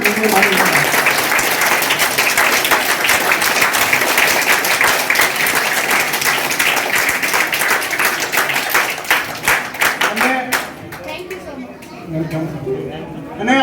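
An audience claps loudly and densely at a school entrance ceremony in a Porbandar village, close and sustained for about ten seconds, then thins to scattered claps as chatter and voices take over.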